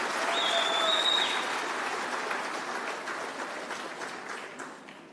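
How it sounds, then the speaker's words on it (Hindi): A crowd at a political campaign rally in Goa applauds in a sustained burst of dense clapping, loud at first and slowly thinning out, with a faint high whistle near the start. "जब मैं बोल रहा था सब ताली बजा रहे थे"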